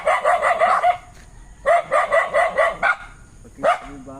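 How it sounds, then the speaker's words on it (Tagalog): A dog barks loudly and close in rapid runs of sharp barks, two quick volleys separated by a pause, then one last single bark. "Aso."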